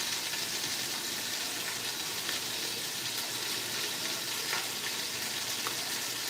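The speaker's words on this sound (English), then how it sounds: "Basically, we're gonna put some color on the meat and create like a little fond in the pan." Meat sears in a pan with a dense, even sizzle that holds steady and close throughout, no talking.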